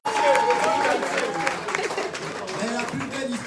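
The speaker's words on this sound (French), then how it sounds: "Est-ce qu'on peut applaudir?" Crowd applause during a speech by a football official ahead of Qatar 2022, a sustained patter of clapping mixed with crowd chatter and voices, moderately loud throughout.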